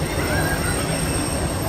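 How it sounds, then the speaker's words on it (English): A Disneyland monorail train arrives with a continuous rolling rumble and a high sustained whine, close and fairly loud for under two seconds, with no voices. "Oh, here comes the monorail."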